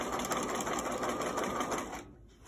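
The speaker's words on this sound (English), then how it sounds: "And then you're just going to stitch through" Sewing machine stitching through the layers of a cloth surgical mask, a steady rapid whirring run of stitches that stops abruptly near the end.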